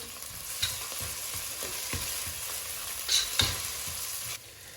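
Crab curry with tomato sauce cooks in a pan, a continuous close sizzle broken by repeated stirring scrapes and a couple of louder utensil knocks, with no voices.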